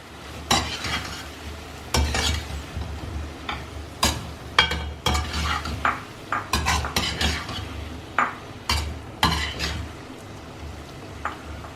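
A Chinese-style egg stir fry with spring onions is stirred in a pan with the flame just switched off, giving repeated scraping and clanking strokes of a utensil against metal over a soft sizzle, close and fairly loud, with no talking.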